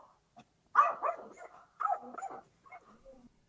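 A dog barks and yips in a few short bursts, fairly quiet and close, with gaps of near silence between the outbursts and no talk over it.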